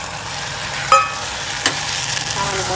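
Green hyacinth beans sizzle in a garlic chutney tempering, a steady close frying hiss, with two sharp clinks of a spoon against the pan near the start.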